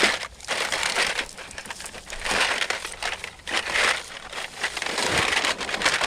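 A can-crushing machine smashes aluminum cans, giving loud, continuous crunching and crinkling in repeated bursts at close range.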